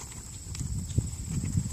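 A horse's hooves thud on ground during a bending and lope training session, irregular low clip-clop steps at moderate distance under a steady high background whine.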